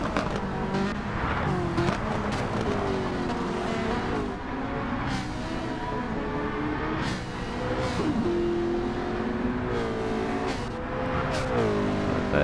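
Ford and Ferrari race cars in a one-hour endurance race in the Gran Turismo 7 video game drone steadily, with engines revving up and down through gear changes and cars passing close by, continuous and loud with no talking.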